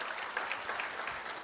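Church congregation applauding the Lord, a steady, dense wash of many hands clapping, moderately distant and fairly quiet, with no voices over it.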